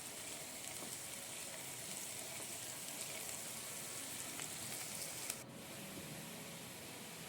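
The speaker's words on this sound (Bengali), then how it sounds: "পেঁয়াজটাকে আমি ভালো করে ভেজে নিচ্ছি" Onions frying in a pan for an egg curry, a soft continuous sizzle and crackle, faint and steady with a brief clatter near the end and no voices.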